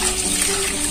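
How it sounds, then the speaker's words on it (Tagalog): Chicken pieces being washed under steady running lukewarm water, a continuous close splashing rush for about a second with no talk. "Hugasin natin mabuti guys."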